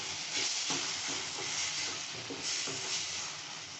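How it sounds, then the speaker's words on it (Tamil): Onions and tomatoes sautéing in a pan for paneer butter masala, giving a steady close sizzle and frying hiss with occasional stirring scrapes, no voices. "பாருங்க, வெங்காயம் தக்காளி நல்லா வதங்கிருச்சுங்க."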